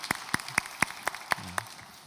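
A church congregation claps during a Sunday youth worship service in a sparse, fairly quiet burst of about seven distinct claps, with no talking over it.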